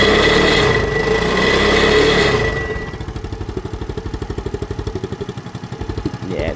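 A Mutt Fat Sabbath motorcycle engine runs on choke. It starts under a broad rushing noise, then settles into a clear, regular, pulsing idle chug that stays close and fairly loud. No voices are heard.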